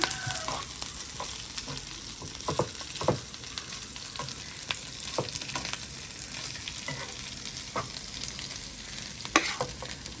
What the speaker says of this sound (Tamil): வாங்க வெங்காயத்தை போடுவோம்